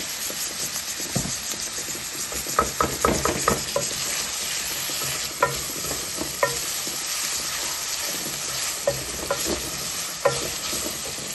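Onions sizzle and hiss in a hot pan for Sylheti pulao while a spoon stirs and scrapes them, giving a constant frying crackle punctuated by irregular sharp clinks and scrapes.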